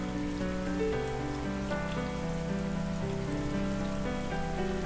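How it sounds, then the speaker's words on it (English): Steady rainfall from a visual novel game, a continuous hiss of drops on a surface beneath a sustained tonal music bed, even and unbroken throughout. "Looks like it's gonna rain for a while."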